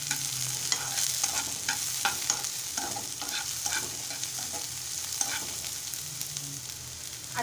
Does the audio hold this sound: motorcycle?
no